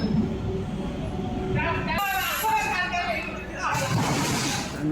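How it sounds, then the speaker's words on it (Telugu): A passenger train from Katpadi bound for Chittoor or Tirupati arrives at a small village railway station. A steady loud rumble with squealing brake or wheel tones, and a person talks over it. "ప్యాసింజర్ రైలు వస్తుంది"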